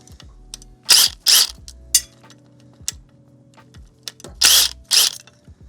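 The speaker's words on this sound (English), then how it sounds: "So now let's take off the 10 mils on the back of this." A ratchet wrench loosens 10 mm bolts on a Yamaha R3 motorcycle, with two pairs of loud bursts of rapid clicking separated by quieter single ticks and handling noises, close up and without talk.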